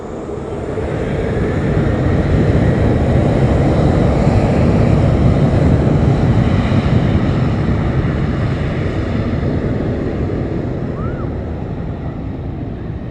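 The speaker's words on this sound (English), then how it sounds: "So here goes our 737," A Boeing 737 airliner takes off from Lanzarote Airport, its jet roar building into a broad, sustained rumble that swells and then slowly fades, with strong wind buffeting the microphone throughout.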